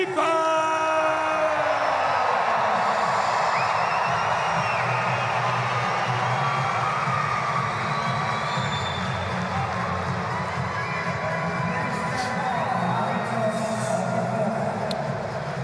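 A packed tennis stadium in Sydney at the United Cup cheers and applauds Stefanos Tsitsipas, with Greek supporters loud throughout, a dense continuous roar of voices and whoops filling the whole stretch.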